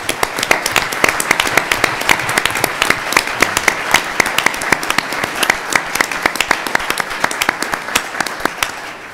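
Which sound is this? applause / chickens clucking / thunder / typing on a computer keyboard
applause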